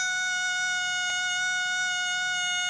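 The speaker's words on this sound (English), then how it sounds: "one type of stall warning system is a pneumatic or reed type stall warning system, like on this Cessna" A Cessna's pneumatic reed-type stall warning horn gives a steady, high, whistling tone with several stacked harmonics, held evenly the whole time with a tiny click partway through.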